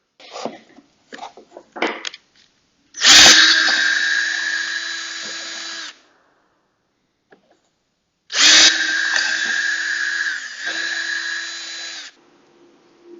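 Two long bursts of a power drill drilling holes through a cabinet drilling jig, each a few seconds of loud steady whirring, separated by a pause, with some clattering handling noise beforehand.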